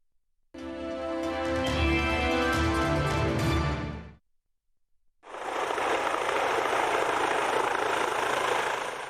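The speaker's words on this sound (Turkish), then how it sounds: "Ambulans helikopter Doğu Anadolu'da acil hastalara hazır gibi yetişiyor." An ambulance helicopter's loud, steady rotor and engine roar, cutting off briefly before returning as a continuous whine and rumble.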